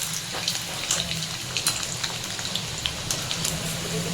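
Malvani khaja sweets frying in hot oil, a steady dense crackle and fizz with scattered sharp pops, close and fairly loud throughout with no talk.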